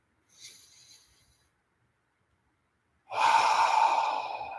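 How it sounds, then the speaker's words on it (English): A long, deep breath drawn in during a guided morning meditation, following a faint earlier exhale; the inhale is close and fairly loud, airy and sustained, with no talking. "Let's take one more deep breath in together"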